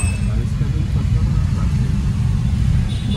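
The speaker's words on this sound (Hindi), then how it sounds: "बहुत ट्रैफिक" Dense road traffic of cars in a city, a loud continuous low rumble of engines and tyres heard close by from within the flow of vehicles, with talk picked up faintly.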